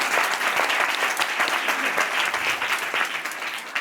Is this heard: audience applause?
yes